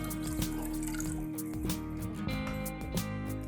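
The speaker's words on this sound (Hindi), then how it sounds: "इसमें पानी ऐड करेंगे 1 लीटर" Water, one liter in total, is poured into a pan sitting on a stove to start a sugar syrup, making a steady splashing, trickling stream with occasional drips and gurgles over a constant hum.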